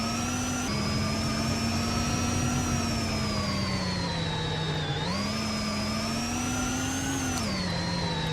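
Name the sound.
Formula E race cars on their in laps, Monaco ePrix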